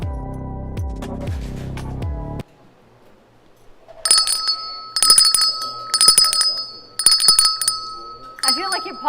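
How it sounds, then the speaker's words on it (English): A handheld bell rings in five or so sharp, bright bursts, each with a lingering metallic tone, after a short stretch of music and a brief pause. "I feel like you're Paul Revere and you're ringing the bell"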